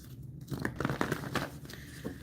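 A deck of tarot cards being shuffled by hand, with a run of close, crisp riffling snaps and rustles in the middle and quieter handling at either end, no talk.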